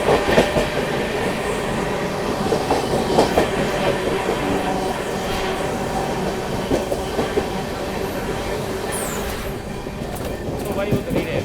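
Heard from on board, the Shiv Ganga SF Express 12559 between Banaras and New Delhi runs fast on the rails with continuous rumbling and rhythmic clickety-clack, while a voice speaks intermittently over it.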